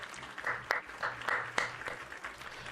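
A short burst of applause sounds during a livestream, with a few distinct sharp claps standing out over a soft, uneven patter.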